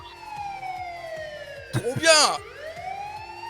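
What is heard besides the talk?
police siren sound effect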